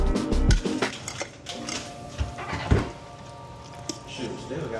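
Colby Jack cheese stirred into a dish, with scattered clinks and scrapes of a spoon against a pot and a few kitchen knocks, under people talking nearby.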